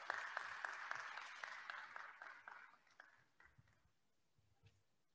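An audience at a spring honors convocation applauds a row of award recipients, a moderately faint burst of many hands that thins out and fades to scattered claps within a few seconds.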